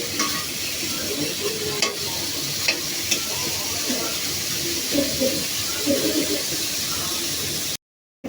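Beef sizzling and frying in a pan while being stirred, with scraping strokes from the spoon and a steady hiss throughout, close and moderately loud.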